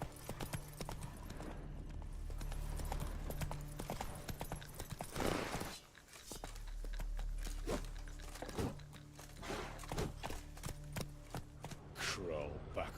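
Roach, a horse in the video game The Witcher 3, clip-clops along with steady hooves mixed into busy game sound, while someone talks over most of it.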